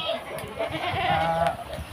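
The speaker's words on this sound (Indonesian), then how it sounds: "Ini kambing namanya." A goat in a forest village without electricity bleats several times, fairly close and moderately loud, with faint background rustle and no speech.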